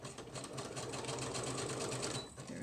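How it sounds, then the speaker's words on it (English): A sewing machine stitches paper scraps into a junk journal with a fast, continuous mechanical whir, close and steady throughout. "So I'm going to just sew that in place."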